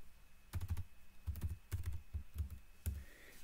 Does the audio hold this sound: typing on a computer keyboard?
yes